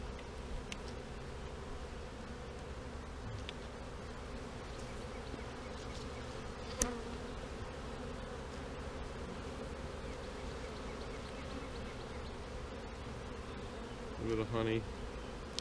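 A steady, dense buzz of many honeybees around an open hive during a Snelgrove split fills the whole stretch, with a brief wooden knock near the middle and some handling rustle toward the end.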